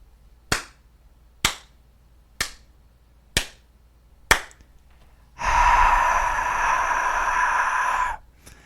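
Five sharp, evenly spaced hand claps from a single person, close and loud, followed by a few seconds of a broad, rushing burst like a canned cheer.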